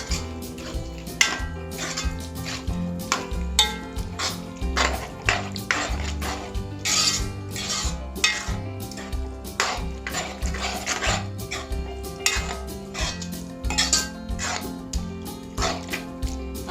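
Beef curry being stirred in a pot, the cooked beef mixed into the masala with steady clinks and scrapes of a spoon against the pot, repeated at a regular rhythm, close and clear with no talking.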